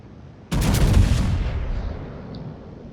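Battleship guns fire big shells in a naval warfare video game: one loud, sudden booming blast with a long rumbling decay that fades over a couple of seconds, with no talk.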